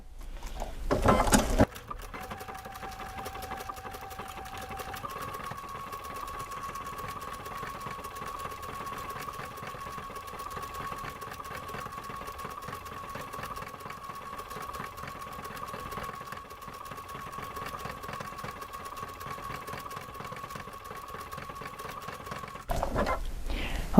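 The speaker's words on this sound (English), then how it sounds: "Let's sew that very same stitch and see what we get." A sewing machine runs steadily and alone at an even pace for about twenty seconds, a constant mechanical hum, with brief handling clatter at the start and end.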